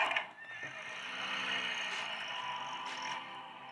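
A horse in the Star Stable video game gives a long, clear whinny lasting several seconds, loud and close, with no talking.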